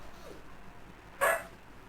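A single sharp dog bark rings out once against quiet background hiss, fairly near and loud compared with the stillness around it.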